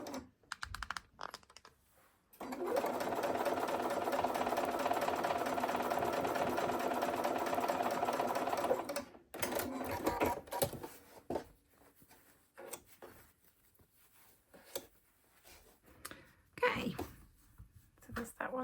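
A sewing machine stitches a holiday quilt block in one steady, close run of several seconds, with handling clicks and rustles before and after.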